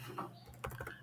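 Keystrokes on a computer keyboard while logging on to a cloud management console, a short quiet burst of a few clicks with a faint voice-like murmur in the background.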